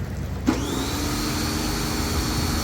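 A Karcher K5 pressure washer motor kicks on about half a second in with a sudden thump. It settles into a loud, steady whining drone close by, with no talking.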